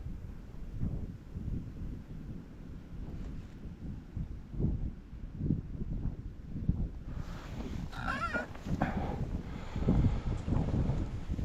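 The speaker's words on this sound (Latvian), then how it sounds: "izskatās, ka ir diezgan spēcīgs tas vējš" Strong wind of about 5-6 m/s gusting against the microphone while fishing, a continuous low rumbling roar that swells and buffets throughout.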